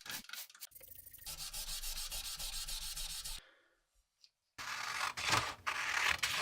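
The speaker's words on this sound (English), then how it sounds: "Then comes final polishing." Polishing of a World War II Gurkha kukri blade during restoration, heard as steady close abrasive rubbing and sanding strokes that stop for about a second, then resume just as harsh, with no talking.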